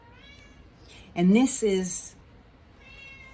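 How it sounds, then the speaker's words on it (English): A domestic cat meows insistently, crying to be let outside, with two or three loud, drawn-out calls right up close, while a person talks briefly alongside during a quilting session. "Sorry about my cat crying in the background."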